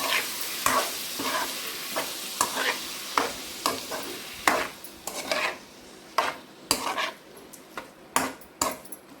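Thinly chopped tomatoes stirred in a frying pan, a soft sizzle under repeated rhythmic scrapes and taps of a spoon against the pan, close and fairly quiet.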